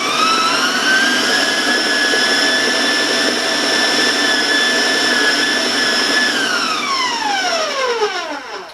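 A stand mixer whirs loudly at high speed through brownie batter for chocolate brown sugar brownies, a steady continuous whine that holds for several seconds and then winds down in pitch as it slows near the end.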